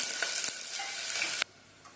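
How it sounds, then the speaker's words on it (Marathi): Sliced onion sautéing in a pan for a quick bachelor-style matar pulao, a steady close sizzle with a few stirring scrapes that cuts off sharply near the end, leaving quiet. "हा कांदा आपल्याला व्यवस्थित ब्राऊन रंगापर्यंत ईपर्यंत आपण परतून घ्यायचा आहे"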